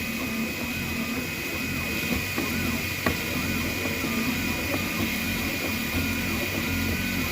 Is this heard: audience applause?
no